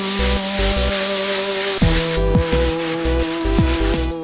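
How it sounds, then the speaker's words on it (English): Patching trowel pushed across a ceiling to scrape it, giving repeated close rasping scrapes in short strokes, loud and alone. "You just push like you were normally going to scrape the ceiling."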